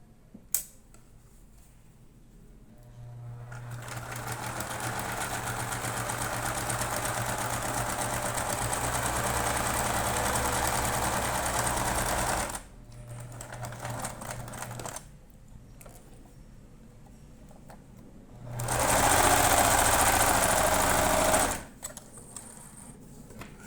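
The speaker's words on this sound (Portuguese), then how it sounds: "Então, passar uma costura." An electric sewing machine stitching a seam on small clothing, running in long steady buzzing bursts with short pauses between them, loud and close with no talk.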